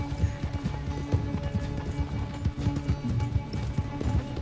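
Horse hooves pound in a steady galloping clip-clop in Red Dead Redemption 2, a close, continuous rhythmic thudding with faint background game sound.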